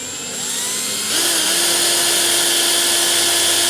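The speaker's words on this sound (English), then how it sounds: "then just drill it" A power drill whines steadily up close as it bores into an ammo case, its pitch jumping higher about a second in and holding there.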